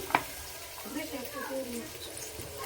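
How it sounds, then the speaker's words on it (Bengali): Oil sizzling in a hot pan while bouya is being cooked, with a soft crackle running throughout and a sharp clatter near the start. A person talks over the frying. "এখন আমি তেল দিয়ে দিতেছি পরিমাণ মতন"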